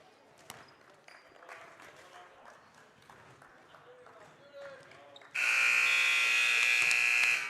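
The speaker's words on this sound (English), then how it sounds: "And there's the buzzer." At the end of a freshman boys' basketball game, a loud, sustained electronic buzzer blares for about two seconds, cutting in sharply after quieter gym sounds of squeaking sneakers and bouncing ball.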